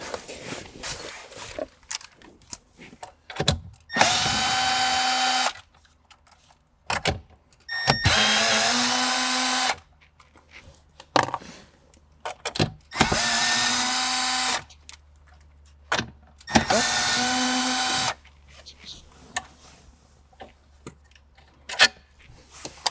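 Four 10mm bolts backed out with a power drill on a Toyota Sienna, four separate bursts of loud whirring motor a few seconds each, separated by quiet gaps with small clicks and handling noises.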